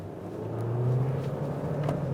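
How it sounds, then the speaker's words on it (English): The engine of a 2026 Hyundai Sonata Hybrid drones steadily from inside the cabin as paddle shifters downshift, its low hum gently swelling in pitch and loudness over road rumble. "And you do get these paddle shifters, which actually downshift because, again, you do have gears."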